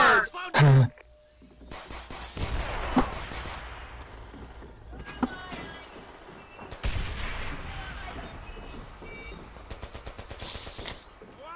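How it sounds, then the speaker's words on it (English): StG assault rifle fire in Call of Duty 5 comes as scattered bursts and single shots amid game noise, with some loud sharp reports and quieter distant gunfire throughout. "Ah, I could hear the sound and I was like, cool, is that an STG?"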